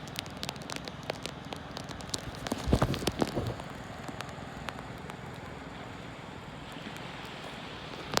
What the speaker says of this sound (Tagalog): Nagulan na dito